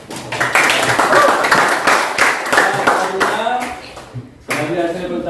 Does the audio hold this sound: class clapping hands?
yes